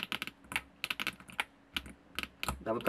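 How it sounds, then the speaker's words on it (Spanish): Buttons on a 433 MHz Arduino remote control are pressed in quick bursts of sharp plastic clicks, irregular and close, much like typing on a small keypad. "aquí pulsando los botones como si fuera un teclado"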